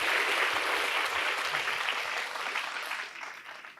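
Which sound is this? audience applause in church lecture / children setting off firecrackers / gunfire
audience applause in church lecture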